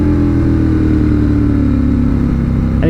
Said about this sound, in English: that dry clutch and that V-twin thumping motor